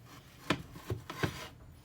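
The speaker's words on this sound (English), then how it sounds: "you can take you a good knife, and then you're going to cut this top part off" A good kitchen knife slices the domed top off a baked cake layer, giving three short soft rasping strokes spaced about half a second apart, close and quiet.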